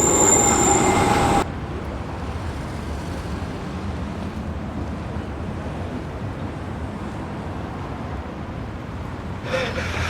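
Tram rumble and rolling wheel noise fill a Prague street as trams run past, a steady broadband roar lasting throughout, with a brighter squealing burst at the start and again near the end.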